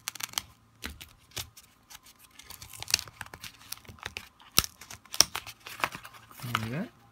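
A knife slicing open a package holding scorplings, with quiet scattered tearing and crinkling scrapes and a few sharp clicks at close range.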